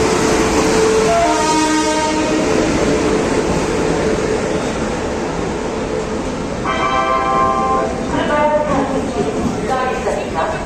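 The 14114 Dehradun Subedarganj Link Express rolls into Chandausi Junction with a steady roar of wheels on rails, and its horn sounds in two long blasts, one early and one later, loud and nearby.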